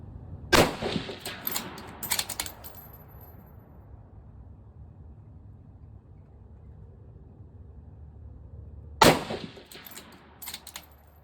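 Two sharp, loud 6mm GT rifle shots crack at an outdoor range several seconds apart, each followed by a rolling echo that fades into quiet background hum.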